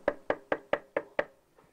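Six crisp, evenly spaced knocks on a front door ring out close and fairly loud, followed by a faint seventh tap.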